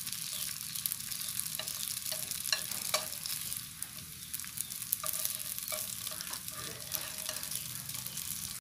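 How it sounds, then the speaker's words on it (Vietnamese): Vegan tofu-skin sausage fries in a pan with a steady, close sizzle, broken by repeated scraping and stirring sounds as the pieces are turned. "Chiên sơ khoảng chừng 3 phút là được rồi đó các bạn"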